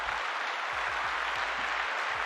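Steady crowd applause fills the whole stretch at even loudness, a dense wash of clapping from an audience cheering a guest at the end of a sports talk segment.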